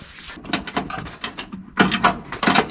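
Metal parts clinking and clacking as an LS swap intake tube is bolted together in a garage, several short, close knocks and scrapes in irregular bursts, with no talking.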